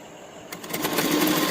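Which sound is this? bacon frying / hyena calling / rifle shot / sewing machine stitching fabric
sewing machine stitching fabric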